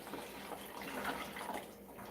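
Tap water running into a dog's drinking bowl indoors, a steady splashing rush lasting about two seconds, close and alone.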